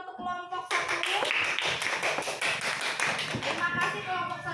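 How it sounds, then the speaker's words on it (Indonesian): A classroom of children applauding their classmates in group 1, a sharp start of quick, close clapping that stays fairly steady for a few seconds, with a voice speaking over the beginning and end. "Mari kita beri tepuk tangan untuk kelompok 1."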